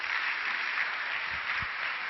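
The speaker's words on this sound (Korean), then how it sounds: "우리 박수로 환영하겠습니다" A church congregation at Onnuri Church claps to welcome a pastor to the pulpit, a soft, even wash of many hands that continues steadily from start to finish at a moderate distance.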